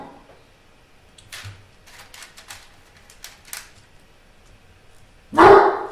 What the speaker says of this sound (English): So there is a big dog here where we are, so you will hear him barking from time to time.